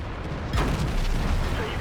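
In a World of Tanks-style tank game, a T28 HTC shell glances off armour with a sudden booming impact, and a low rumbling, crackling tail follows close and loud.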